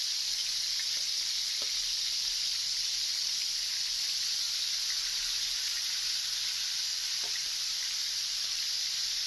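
Steady, dense sizzle of marinated chicken tikka pieces frying in a little oil on a tawa over medium heat, a constant close hiss with a couple of faint clinks and no talking.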